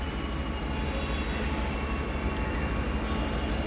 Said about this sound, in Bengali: আর একটা ট্রেন আইসা আছে